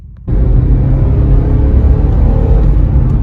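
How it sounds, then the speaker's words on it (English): A Mitsubishi Montero engine revs hard under heavy throttle on a test drive, starting abruptly after a quiet moment and then holding a loud, steady low rumble for several seconds. "So I'm gonna continue on this test drive, give it everything it's got."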